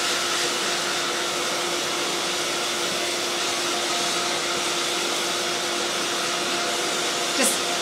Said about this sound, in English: Just heat setting the wig right now, drying it.